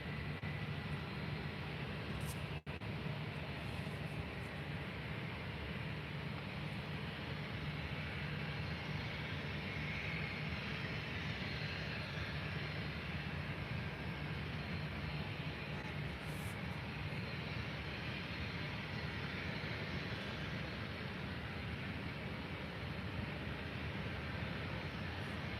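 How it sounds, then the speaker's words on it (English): Jet2 airliner pushing back at Faro airport, its engines and ground equipment producing a steady, broad roar that holds throughout at a moderate distance, with no talk over it. "another Jet 2 is pushing back"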